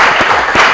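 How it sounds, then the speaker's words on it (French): Audience applauding a contestant at a quiz game final in Lubumbashi, a short, loud burst of dense clapping with a couple of sharper hits. "Merci de l'applaudir s'il vous plaît."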